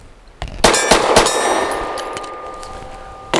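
A torque pistol magazine drops free from a Glock-style pistol fitted with a Zev OZ9C Hyper Comp X grip. Sharp metallic clangs and clicks come close up, followed by a long, fading ringing tone.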